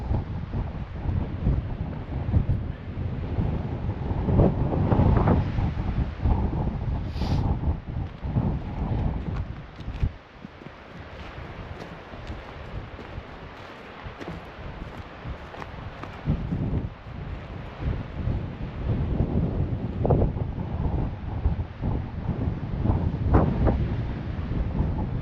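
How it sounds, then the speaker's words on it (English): Loud, continuous roar of high Atlantic surf at Cape Spear, Newfoundland, with waves crashing and wind buffeting the microphone throughout. "the waves are up, so you get to see how vicious the Atlantic can be"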